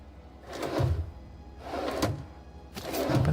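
Cabinet doors being opened in the video game The Outer Worlds, three soft wooden thunks with brief creaky rattles spaced about a second apart, quiet and without talk.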